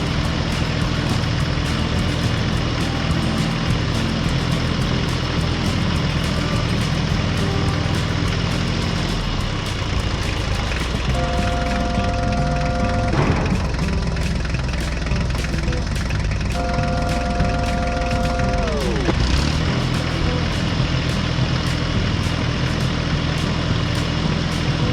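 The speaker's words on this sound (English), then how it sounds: "the tractor carefully spread gravel on the designated section of road" A tractor engine runs steadily and loudly throughout while gravel is spread on a road section, a continuous low diesel drone with a brief tonal whine rising in the middle and later.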